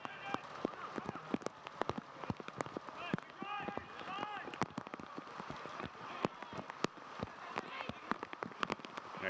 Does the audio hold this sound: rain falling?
yes